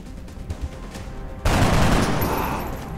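Gunfire from the video game XCOM Enemy Unknown erupts as a loud, dense burst after a second and a half of quieter thumps, then rings out and slowly decays.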